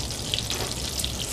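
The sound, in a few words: salmon frying skin side down in a pan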